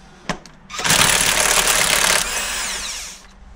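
A power tool whirs loudly for about two seconds while loosening the crankshaft pulley on a Renault Clio II 1.2 16V D4F engine, preceded by a sharp click and tapering to a lower steady whine before stopping.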